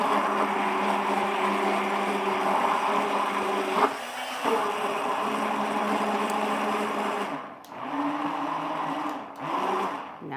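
An immersion blender whisks eggs with a steady, loud motor whine and grinding buzz, briefly cut off and restarted several times, with no talk over it.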